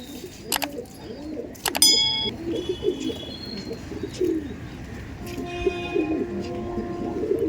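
Pigeons coo softly in a loft, a series of low rolling coos under faint background noise, with a few sharp clinks and chirps breaking in.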